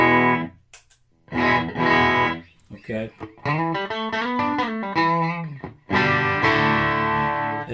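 American Fender Strat played through an Amptweaker TightDrive Pro pedal set near clean in the boost loop, giving a slightly broken-up tone. Chords and melodic notes ring out after a brief spoken word.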